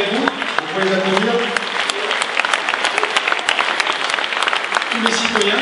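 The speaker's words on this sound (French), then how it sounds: "vous pouvez les applaudir." Audience applause fills a political rally in support of François Rebsamen, a dense steady clapping from a large crowd with voices faintly mixed in throughout.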